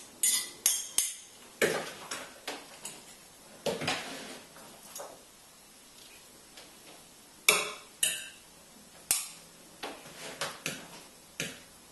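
A spoon scrapes and clinks against a dish of raw veggie noodles, giving a string of sharp, close taps and short scrapes in irregular bursts separated by brief quiet gaps.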